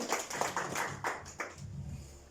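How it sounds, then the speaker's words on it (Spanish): A small church congregation claps faintly and somewhat unevenly, with several distinct hand claps standing out over a soft, diffuse patter of applause. "Denle un aplauso al Señor por ellas,"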